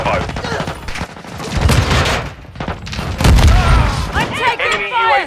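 Rapid gunfire and bursts from a multiplayer match of Call of Duty Modern Warfare 2, loud and dense throughout, mixed with in-game radio voice callouts.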